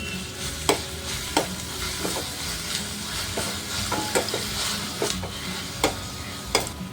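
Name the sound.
fenugreek leaves and green chili paste frying in pan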